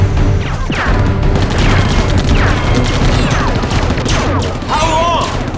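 A spear gun firing in a science-fiction action film: loud, dense bursts of shots and crashing impacts packed together throughout, with shouted voices breaking through the mix.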